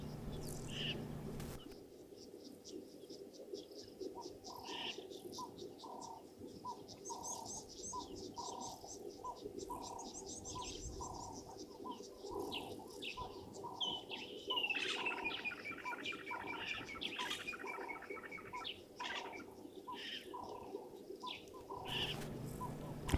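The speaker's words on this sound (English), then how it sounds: "from the sounds of them, with the birds that are around here as well, there's woodland kingfishers, and also one or two little blue waxbills too" Woodland kingfishers and blue waxbills calling in outdoor bush, repeated chirps and trilling calls over steady ambient noise, fairly faint and distant, with no talk.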